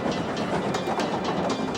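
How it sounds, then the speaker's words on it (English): A British Southern Railway Class S5 steam locomotive, number 841, sweeps around long curves on a moorland line, giving a steady, loud broadband rumble with faint rhythmic clatter and hiss close by, no voices. "Sweeping around the long curves and past Carter's House ruin is British Southern Railway's Class S5 number 841"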